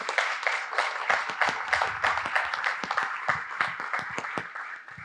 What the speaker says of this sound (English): So I welcome all of you to give him a round of applause to make him feel welcome